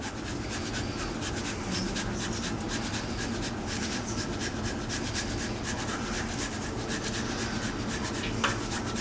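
Parmesan cheese being grated by hand, a steady rapid rasping scrape repeated in quick strokes, close and continuous, with no talking.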